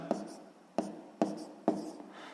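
A pen writes out a math solution, with four distinct sharp strokes or taps spaced roughly half a second apart over soft continuous scratching, close and clear with no talking.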